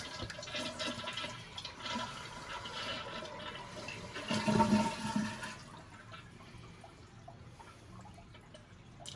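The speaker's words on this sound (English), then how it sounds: "flush the water and see if it's gonna get this off." A toilet flushes during a plumbing repair, a loud rushing swirl that swells to a peak and then fades into quieter refilling trickles and drips.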